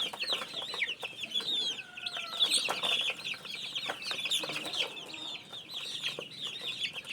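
Chickens and cockerels cluck and chatter continuously while pecking at bananas, a dense flock of overlapping calls close by with no one talking.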